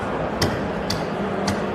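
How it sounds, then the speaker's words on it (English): A knife is batoned with a piece of wood to split wood: three sharp, evenly spaced wooden strikes ring out over steady outdoor background noise. "I'm going to use my other piece of wood here as my hammer"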